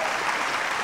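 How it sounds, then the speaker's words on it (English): Steady audience applause at a BET Africa awards ceremony as the chairperson walks up to present an award, a dense wash of clapping with no talk. "Give him a round of applause as he comes to the stage."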